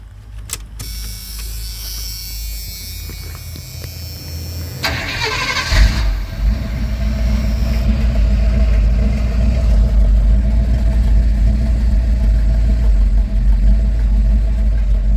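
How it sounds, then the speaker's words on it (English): A car with a dual exhaust and Flowmaster-style mufflers cranks and fires up, then settles into a deep, steady rumbling idle from the exhaust, loud and close. "It's not crazy loud, but it's got a nice rumble when you take off."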